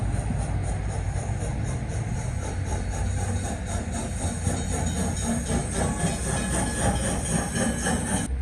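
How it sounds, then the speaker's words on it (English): Steam locomotive engine number 9 rolls along the rails in Breckenridge, a quiet, steady rumble with a soft rhythmic clatter that continues evenly throughout. "you can very clearly hear what engine number 9 would have sounded like"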